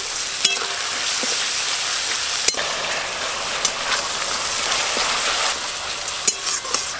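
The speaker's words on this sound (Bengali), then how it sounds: "এবার দিয়ে দেব পেঁয়াজ বাটা।" Onion paste frying in hot oil with dried red chillies and a bay leaf, in a pan for a Bengali rupchanda fish curry, giving a steady loud sizzle with occasional crackles and stirring clicks.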